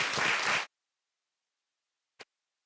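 Audience applause at a school board regular session, a short dense burst of clapping that cuts off abruptly after about half a second, followed by silence and a single faint click.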